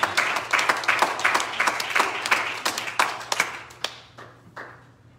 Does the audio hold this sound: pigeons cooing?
no